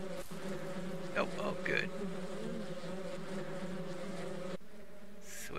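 Bees from a ranch-life simulation game buzz steadily and close in a dense, continuous drone that carries on throughout, while a voice speaks briefly over it.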